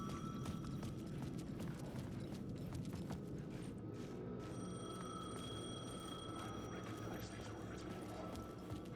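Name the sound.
payphone ringing in video game Alan Wake 2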